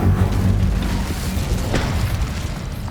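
The Incendio fire spell in Hogwarts Legacy bursts out as a loud, heavy whooshing boom with a deep rumbling roar that trails off over a few seconds, close and alone.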